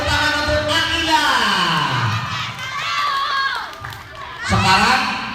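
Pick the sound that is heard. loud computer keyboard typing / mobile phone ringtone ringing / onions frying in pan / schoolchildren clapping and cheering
schoolchildren clapping and cheering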